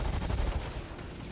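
Spaceship guns fire at a UE Hammerhead in the video game Star Citizen, a rapid burst of repeated shots in the first half that then trails off into a dull rumble, with no talking.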